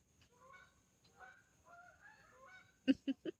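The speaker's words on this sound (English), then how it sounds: "there goes the geese. Listen." Three short, loud goose honks in quick succession near the end, after a stretch of quieter, distant honking and faint calls.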